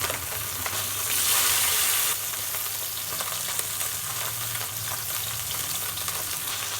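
A piece of fish fries in oil after being turned over, a continuous close sizzle that briefly swells brighter early on, then settles into an even crackle with scattered pops.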